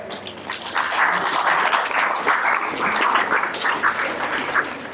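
A hotel audience applauds at a company foundation day event. Steady, dense clapping from many people in a hall rises after the first second and holds evenly, with no voices over it.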